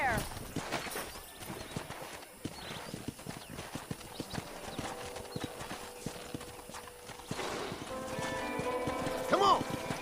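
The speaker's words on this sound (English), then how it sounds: "there's a pack of wild horses nearby" Hooves of wild horses clip-clop in a rapid galloping rhythm in the Red Dead Redemption video game, moderately loud and continuous, with voices talking over it and a horse's whinny near the end.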